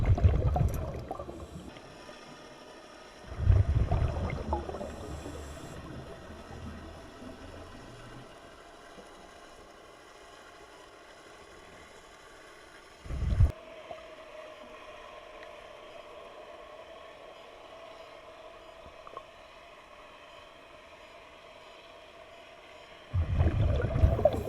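Boat engine running on salt water not far from a diver, a faint steady low hum under water gurgles, broken by several loud bursts of bubbling.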